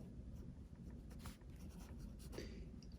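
A pen scratches across paper as an equation is written out by hand, giving soft, close strokes in short irregular bursts over a faint background hum.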